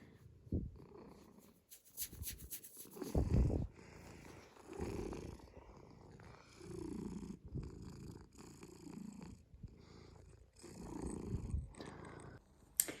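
A house cat purring close to the microphone, soft rhythmic rumbling breaths in uneven pulses with small snuffles between, quiet and intimate with no talk.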